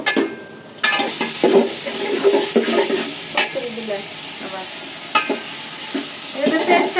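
Spice paste for a beef trotter curry fries in a pot and is stirred steadily, with close sizzling and repeated scraping, clattering strokes of the spoon.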